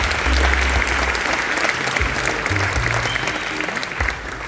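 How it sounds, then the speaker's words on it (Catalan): Steady, dense applause from a crowd at a town festival, loud and continuous for several seconds, with low rumble underneath. "Un aplaudiment per tots"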